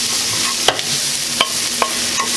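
A wooden spoon stirs braised beef in a pan, scraping the bottom in four or five distinct strokes over a steady, loud sizzle, with no voices.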